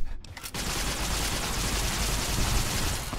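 Dense, sustained gunfire from the video game Fallout New Vegas, a loud, continuous burst of rapid shots that rolls on without a pause after a brief quieter moment at the start.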